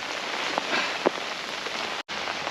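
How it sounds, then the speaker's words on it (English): Pouring rain at a private fishing lake, a steady hiss of drops pattering on nearby surfaces with a few louder close splats and a brief dropout near the end, no speech. "Well, it is pouring rain."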